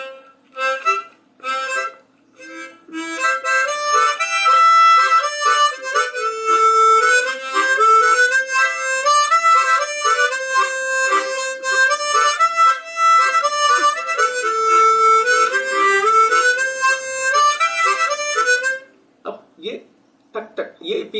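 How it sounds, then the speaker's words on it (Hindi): Harmonica melody played with tongue-slap rhythm technique, sustained reedy notes over a pulsing percussive thump underneath, steady and close for most of the passage before stopping near the end. "पीछे एक आवाज आ रही, तो इसी को बोलते हैं टंग स्लैप या रिदम देना बोलते हैं इसको"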